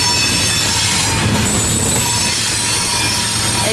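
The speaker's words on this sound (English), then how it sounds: "Especially when you see a Canadian Pacific unit leading this baby." A freight train led by a Canadian Pacific locomotive, with a CSX unit on the rear, rumbles past at Fullerton, steady and close, with rail cars rolling and wheels squealing throughout and no talking.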